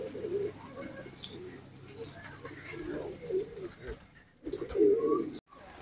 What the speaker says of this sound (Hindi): तो गाइस, फाइनली कबूतर खुल चुके हैं।